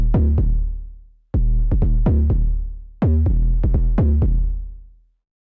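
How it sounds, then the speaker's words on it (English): A synthesized 808 bass built from a triangle oscillator in FL Studio plays a bouncy pattern of deep notes with instant attack, short tails and downward-sliding pitch, loud and alone in three phrases. "you would want to come up with an 808 sound with instant attack,"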